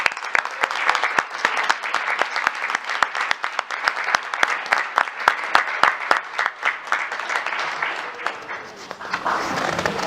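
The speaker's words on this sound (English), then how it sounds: "Please give this amazing group one more round of applause." An audience applauds an elementary school choir, sustained crowd clapping with distinct individual claps that holds steady for about ten seconds before thinning out at the end.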